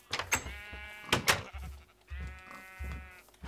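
Cows in the Minecraft video game give several short, nasal, bleating moos one after another, mixed with soft low thumps, fairly close and moderately loud.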